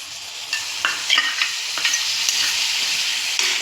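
Coconut masala paste stir-fries in a hot pan, a steady sizzle broken by repeated scraping and stirring strokes of a spoon, close and fairly loud, with no talking.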